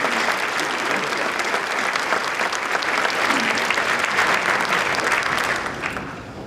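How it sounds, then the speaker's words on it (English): An audience at a school convocation bursts into sustained applause, dense clapping from many hands filling a large room, loud and even before tapering off near the end. "let's take an opportunity and really give a round of applause for that level of real"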